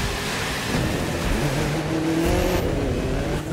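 A race car engine in the driving game The Crew 2 roars steadily under hard acceleration, a loud, continuous high-revving drone with faint tire noise and no pauses.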